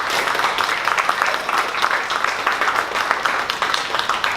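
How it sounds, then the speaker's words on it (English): An audience at a 1MC Dallas startup presentation gives a big round of applause for the presenter, a continuous bed of many hands clapping at an even, lively level throughout. "Big round of applause for Todd."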